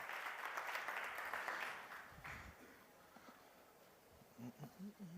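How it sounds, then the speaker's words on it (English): Applause from an audience at a morning session of a startup conference's playground stage in Mexico City, a broad burst of clapping for the first two seconds that fades into quieter room noise. "big round of applause, please"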